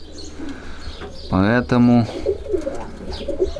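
Pigeons of a newly acquired breed coo in a loud, harmonic burst of two close calls midway, with a voice speaking briefly and quiet ambient noise around them.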